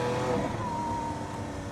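A Lamborghini Aventador S V12 engine revs up in a short, loud pull after a downshift, its pitch climbing steadily before easing slightly near the end, with no voices.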